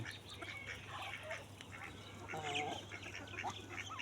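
A white duck quacks outdoors in a grassy field, with a few short, clear quacks rising over a low steady hum and quiet background ambience.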